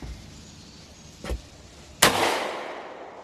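A single sharp rifle shot from a Henry lever action rifle rings out close by, its loud crack trailing into a long echoing decay, with a fainter click shortly before.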